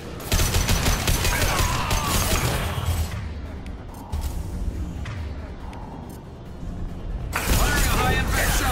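High-impact gunshots in Mass Effect 2 during a prison-break firefight: loud, dense bursts of fire and impacts fill the opening seconds, ease off in the middle, then return hard at the end, with voices talking over the action.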